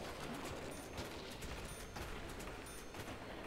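Rapid automatic fire from an StG assault rifle in Call of Duty World at War Zombies, a dense steady stream of gunshots running throughout, loud and close with no talking over it.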